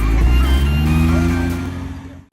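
A V10 car engine revs loudly and close at a cars-and-coffee meet, a deep sustained roar with rising and falling pitch that fades slightly at the end, with faint voices underneath.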